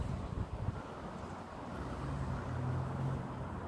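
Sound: gust of wind blowing past a small wind turbine

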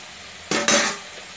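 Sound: stirring rasam in a pot

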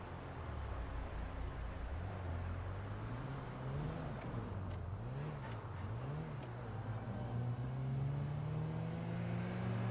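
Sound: car driving in a video game roleplay server

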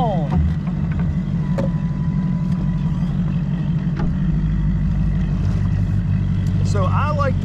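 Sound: outboard boat motor running

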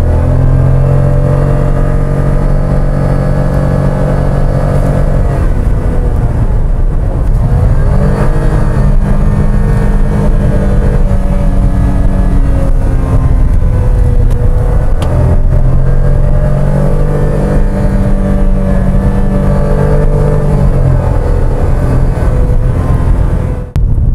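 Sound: Toyota Raize engine accelerating uphill in power mode

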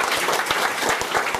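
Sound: audience applause at a seminar

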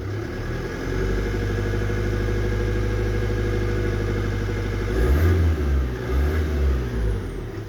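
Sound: Ford Focus 1.8 TDCi diesel engine idling

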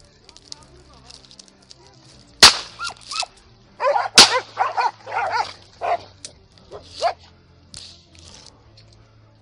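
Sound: dog barking

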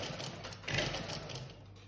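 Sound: sewing machine stitching a side seam

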